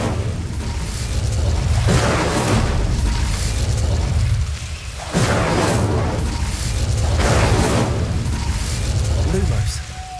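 An Incendio fire spell cast in the Hogwarts Legacy video game: loud, repeated roaring bursts of flame with deep booming rumbles that swell and fade in waves across the whole stretch.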